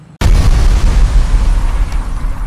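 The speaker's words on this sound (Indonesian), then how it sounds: "Itu sudah meledak." A single loud explosive blast goes off close by after a short silence, its heavy boom rolling into a long rumbling tail, in a mock battle against colonial invaders.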